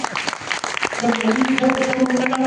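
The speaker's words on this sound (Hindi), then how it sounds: "तालियां बजाओ" An audience at a Ramayan program held in a hotel claps in bursts, and partway through, a voice rises over the applause.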